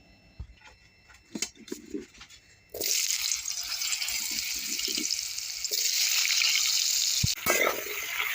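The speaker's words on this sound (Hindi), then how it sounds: "उसी तेल में हम जो ये आलू काट के रखे हैं वो आलू फ्राई कर लेंगे" Cut potatoes frying in oil in a kadai: a few soft knocks over near-silence, then a sudden steady, loud sizzle that swells further midway and dips briefly near the end.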